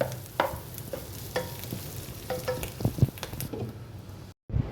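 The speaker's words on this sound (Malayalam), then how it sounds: "അപ്പോൾ ഇത് ഏകദേശം ഫ്രൈ ആയിട്ട് വന്നിട്ടുണ്ട്. അപ്പോൾ നമുക്ക് കുറച്ച് നേരം കൂടി അതൊന്ന് ഫ്രൈ ചെയ്യണം." Clam masala for kakka fry cooks in a pan, a soft steady sizzle under scraping and clinking as a spoon stirs it, with a few sharper knocks before a brief silence near the end.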